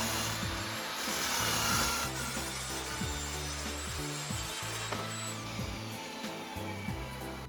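Wooden worktop pieces being cut off inside a campervan, a continuous close rasping saw sound with a regular stroking rhythm and steady level throughout.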